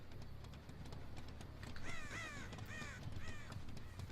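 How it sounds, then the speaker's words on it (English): Crows in the Dead by Daylight horror game give several harsh caws in short bursts over a low rumbling ambient drone, a cluster of calls rising midway and another near the end as the birds scatter. "When people run by crows, the crows yell and fly away."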